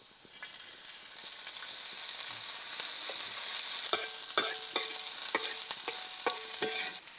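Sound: oil sizzling with onion in pan

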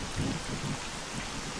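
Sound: heavy rain in a video game

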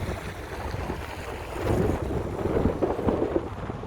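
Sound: wind

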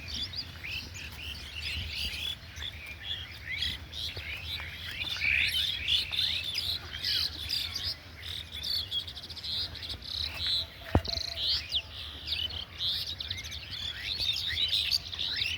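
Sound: birds chirping

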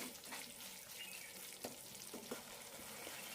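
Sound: stirring chicken pickle masala in pan

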